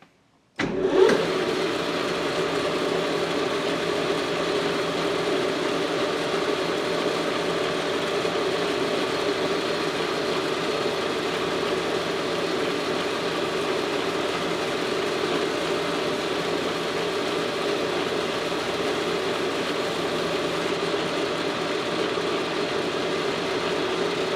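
A Massey Ferguson 65 tractor diesel engine cranks and fires after a dose of Triple X starting fluid, then settles into a steady, loud, even idle that runs uninterrupted for over twenty seconds.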